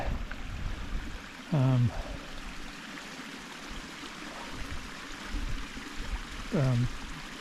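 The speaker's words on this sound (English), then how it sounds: "here's a little water crossing" Water flows in a steady broadband rush from a nearby creek crossing in a canyon, continuous and moderately loud, with two short vocal sounds briefly rising above it.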